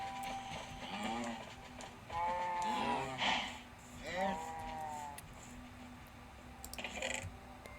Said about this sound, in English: there's a chicken in with the cows now